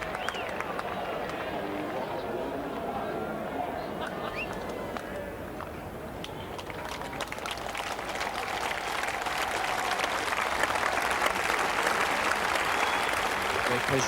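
A stadium crowd at a cricket match applauds Pakistan captain Imran Khan's half-century. Broad, continuous clapping and crowd noise rise gradually, with a commentator talking over it throughout.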